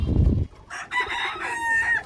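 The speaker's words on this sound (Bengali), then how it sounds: "মুরগিটা কেমন ডাকছে দেখো না" A chicken gives a drawn-out crowing call, close and fairly loud, after a brief low rumble at the start.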